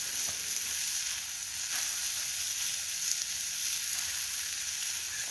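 Beef sizzles steadily in a hot pan, a dense bright crackle and hiss that continues without pause, no voices.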